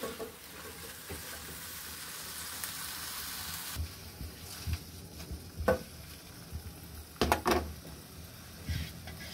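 Pumpkin leaves go into a pan where shrimp and potato are frying: a steady hiss of frying oil, then a softer sizzle broken by several close scraping strokes of the stirring spoon at uneven intervals.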